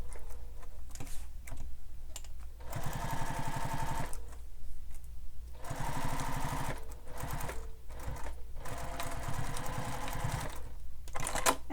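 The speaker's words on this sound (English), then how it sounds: "Sewing along the sides and the bottom." A sewing machine runs along the sides and bottom of a Bella Bag in several long bursts of rapid stitching separated by short pauses, close and clear.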